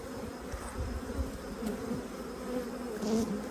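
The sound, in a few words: honeybees buzzing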